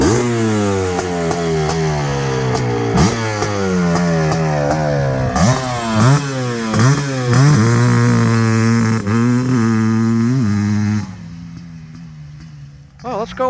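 A Suzuki Quadzilla LT500R two-stroke ATV with newly adjusted jetting revs hard up close, its engine pitch climbing and dropping in repeated blips before cutting off abruptly near the end.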